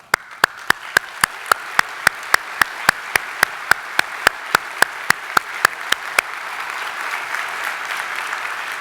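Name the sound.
applause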